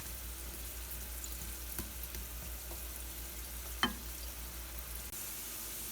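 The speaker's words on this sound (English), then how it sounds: "So we're sauteing away, and we're going to do this for about 4 to 5 minutes" Carrots sautéing on medium heat give a steady, soft sizzle throughout, with occasional faint scrapes and one brief clink of a utensil against the pan, close up and without speech.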